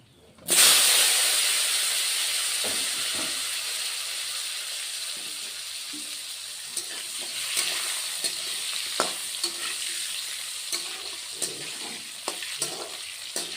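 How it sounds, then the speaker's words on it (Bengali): Boiled, lengthwise-cut potato strips fry in hot oil in a pan for a Bengali fish curry, a loud steady sizzle and hiss that starts abruptly and slowly eases, with occasional stirring clatter. "এখন আমি আলুগুলি ভেজে নেব"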